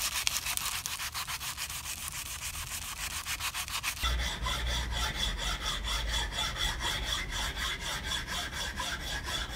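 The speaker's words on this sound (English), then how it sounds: "Always make sure whenever you're using a file to follow the grain of the wood." A hand file rasps along the grain of wood being shaped into nunchucks, in quick, even back-and-forth strokes, close and alone, growing coarser and louder halfway through.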